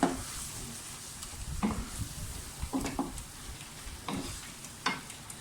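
Chopped tomatoes go into a sizzling pan of keema masala with minced meat and onion, a continuous frying hiss broken by irregular scraping stirs and clinks of the spoon against the pan.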